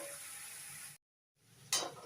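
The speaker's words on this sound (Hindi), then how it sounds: "इसे हम बहुत ही अच्छी तरह से धीमे धीमे से भूनेंगे।" Bottle gourd slowly roasting in a pan, a soft steady sizzle that cuts out briefly, then returns with a short louder burst of frying noise.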